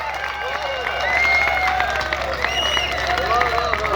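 Audience at a ghazal poetry recital breaking into loud applause: dense, sustained clapping from a large crowd, with cheers and voices mixed in throughout.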